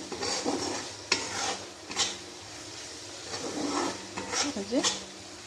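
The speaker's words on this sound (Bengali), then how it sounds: "মশলাগুলো ভেজে নেব" Spices frying in oil in a pan over a small flame for a prawn curry, with soft sizzling and scraping stirs, a few sharper clinks, and a voice talking over the cooking.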